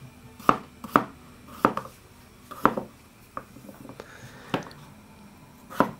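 Potatoes being cut roughly with a knife on a board for cheese soup: sharp, close knife chops land in an irregular rhythm, about ten strikes with short pauses between them.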